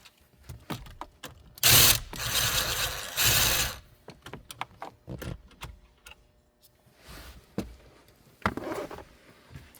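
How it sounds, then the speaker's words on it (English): Socket ratchet loosening the screws that hold the factory radio in a Lexus RX dashboard, with a burst of rapid clicking followed by scattered short ticks and clacks, close and fairly loud, no talking. "So you will need to get a socket, get that release."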